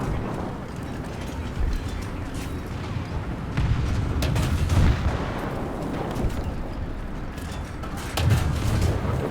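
Tank cannon fire from a German Panzer III Ausf. J1 medium tank in War Thunder, heavy booms rising over a constant engine and track rumble, with a couple of louder thumps spaced several seconds apart.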